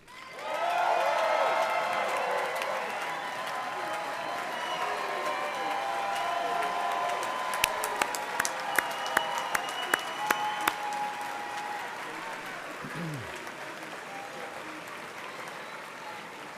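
A large audience gives graduates a long, sustained round of applause at a spring quarter graduation ceremony, steady clapping swelling quickly and rolling on for over fifteen seconds, with a few sharper claps and faint cheers standing out.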